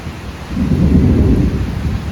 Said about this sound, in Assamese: এই বছৰৰ প্ৰথম বৰষুণ এয়া